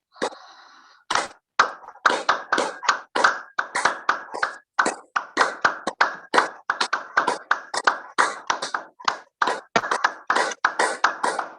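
Rhythmic hand clapping from a group in a morning yoga session, a steady train of sharp, evenly spaced claps that follows a brief hum and continues loudly for several seconds without talk.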